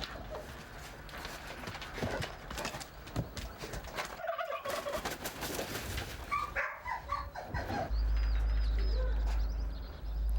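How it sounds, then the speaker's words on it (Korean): Farmyard animals in a yard shared with chickens, dogs, rabbits and peacocks make overlapping gobbling, clucking and cooing calls against a busy outdoor background. A louder sustained call near the end. "마당 한편에는 닭이며 개, 토끼, 공작새들도 함께 살고 있습니다."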